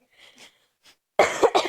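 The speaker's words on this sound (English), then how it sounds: "I had to clear my throat" A couple of soft throat-clearing noises, then a louder, rougher clearing of the throat, close to the microphone.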